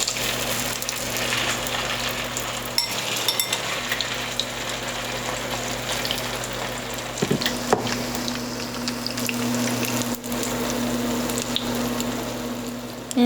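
Egg-dipped tikoy, Chinese New Year sticky rice cake, frying in a pan with a steady, continuous sizzle throughout, fairly loud and close, with no talking.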